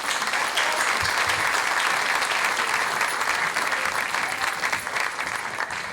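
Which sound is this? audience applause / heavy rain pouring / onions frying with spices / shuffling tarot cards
audience applause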